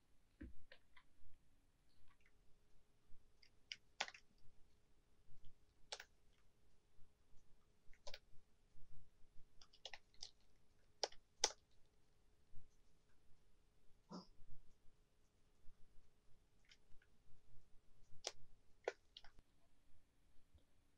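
Typing on a computer keyboard in a text editor: scattered, quiet clicks of individual keystrokes at an irregular pace over a low steady hum, with no talking.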